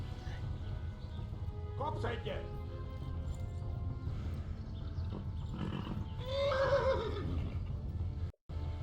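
Horses whinny in the medieval game Kingdom Come: Deliverance, with a drawn-out neigh near the middle and a shorter call earlier, set over steady game background noise and hoof clatter while someone talks.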